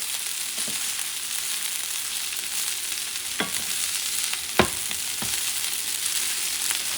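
Cooked rice and sausage being stirred in a hot pan: a steady low frying hiss with occasional sharp scrapes and knocks of the utensil, close and moderately loud.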